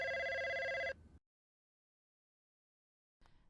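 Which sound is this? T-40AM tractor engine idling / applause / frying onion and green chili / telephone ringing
telephone ringing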